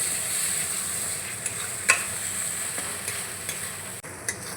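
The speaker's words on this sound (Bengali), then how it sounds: "এইটা দিয়ে ভালো করে আবারও মিশিয়ে মশলাটা আর একটু কষিয়ে নেব" Spice paste of ground coconut and poppy seed being stirred and fried with prawns and pointed gourd in a pan, a steady sizzle throughout with occasional scraping clinks of the spatula, no voices.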